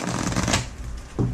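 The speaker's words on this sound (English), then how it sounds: "You do that while I shuffle." A deck of Doreen Virtue Angel Answer oracle cards is shuffled up close, a quick riffle followed by a second short burst of card flicks.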